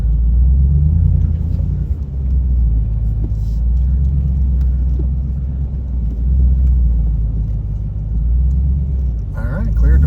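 A heavy off-road vehicle engine rumbles loudly and steadily as it crawls up slickrock on Hells Revenge in Moab, Utah, with a low growl that swells and eases as the throttle shifts.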